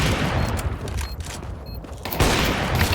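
Gunfire in Counter-Strike 2 during a match in a new bounce game mode: a dense fusillade of rapid, loud shots that thins briefly in the middle, then resumes close and harsh, with no talk.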